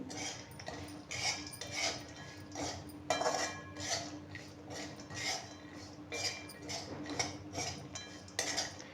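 A metal spoon mixes Kashmiri red chili powder in a bowl, clinking and scraping against the sides in quick repeated strokes, close and clear, with no speech.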